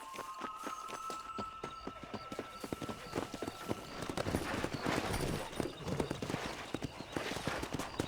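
Horses gallop in a Red Dead Redemption race, a dense, steady clip-clop of hooves on a dirt trail with an occasional whinny, close and continuous for several seconds.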